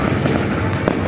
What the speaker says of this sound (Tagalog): Fireworks lang.